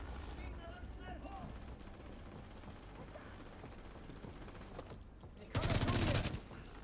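Sniper gunfire in the video game The Division 2 rings out as one loud burst near the end, standing out over a low, steady ambient game bed, with someone talking quietly.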